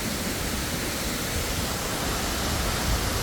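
Steady, dense rushing roar of a waterfall at a tropical spot in Moalboal, Cebu, Philippines, filling the air continuously and evenly throughout with no voices.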